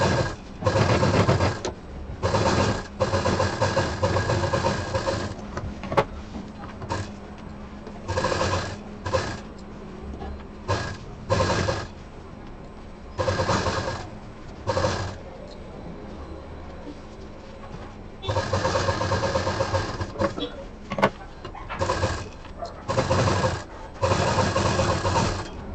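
A sewing machine stitching scrap fabric in loud, close bursts of rapid mechanical whirring, starting and stopping repeatedly with short pauses between runs.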